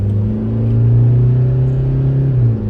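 A Toyota Fortuner SUV accelerates hard toward 100 km/h, a loud steady low engine drone heard from inside the cabin with the pitch rising slightly, then dipping at the end.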